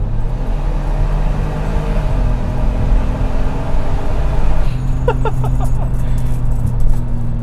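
Supercharged Toyota Sienna minivan accelerating hard from inside the cabin, its engine drone rising steadily, then a gear change drops the pitch before it climbs again, loud and continuous.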